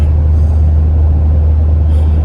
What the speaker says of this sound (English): I'm in the truck. I'm on the way home.